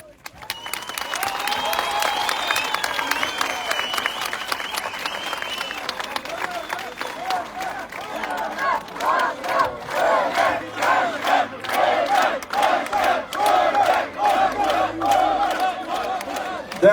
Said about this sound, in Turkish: sizleri alkışlamak istiyorum